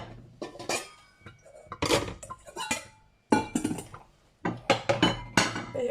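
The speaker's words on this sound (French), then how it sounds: "On va prendre un saladier aussi pour mettre la salade de fruits dedans." Clattering kitchenware as a salad bowl is pulled out and handled for an summer fruit salad, with several separate bursts of clinks and knocks from bowls and utensils, close and fairly loud with short quiet gaps.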